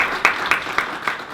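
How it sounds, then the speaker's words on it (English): An audience at a startup demo day applauds the partners, brisk close clapping with a few distinct louder claps standing out in the short burst. "Big applause for all the partners."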